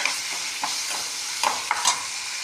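Cauliflower frying with salt in a pan, a steady hiss of sizzling oil with a few scraping strokes of a spoon as it is stirred, close-up and without speech.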